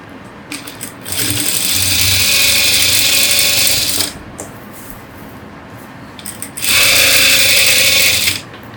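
A sewing machine stitches the lining side of a blouse in two loud, fast mechanical bursts, one of about three seconds and a second, shorter one, separated by a quieter pause.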